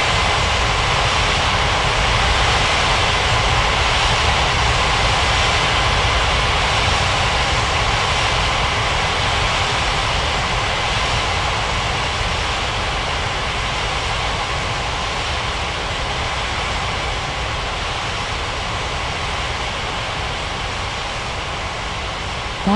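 Airliner jet engines idling and taxiing at Bali's Ngurah Rai airport in an air traffic control game, a steady loud whooshing roar that holds evenly throughout, with no talk.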